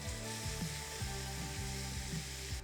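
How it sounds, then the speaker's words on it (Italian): Chopped onion sautéing in olive oil in a saucepan, a dense continuous sizzle and crackle, close and steady, with a faint rhythmic mechanical whir underneath. "faccio un bel giro d'olio in casseruola, aggiungo la cipolla"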